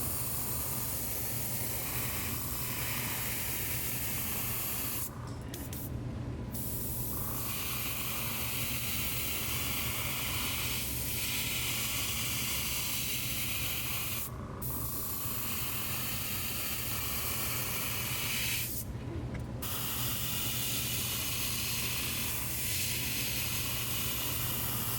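Olive green paint sprayed from an airbrush onto the back and shoulders of a baby rainbow trout pattern fishing lure: a steady, soft continuous hiss broken by a few brief pauses.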